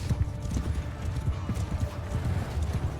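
Cavalry horse hooves clip-clop rapidly and continuously in a medieval battle in the video game Bannerlord, with a horse archer circling; dense galloping close by, with a faint whinny.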